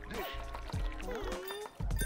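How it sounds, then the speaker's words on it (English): A drink is poured in the Dave the Diver video game, a short liquid trickle and splash over bright tonal game music, with a voice talking alongside. "Pouring you a drink."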